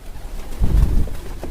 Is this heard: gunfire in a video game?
no